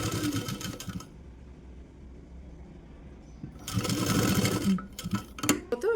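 A sewing machine stitches a blouse seam in two loud bursts of fast, steady running, separated by a quieter pause with soft handling noise, then a few short stops and starts near the end.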